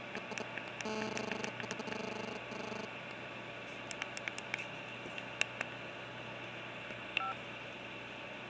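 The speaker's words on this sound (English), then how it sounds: "Seems to be responding audibly and visually just fine to the operation of the keyboard." Short electronic keypad beeps from a mobile phone being powered on and tested after a battery check, a quick series of tones and then scattered single presses over a steady background hiss.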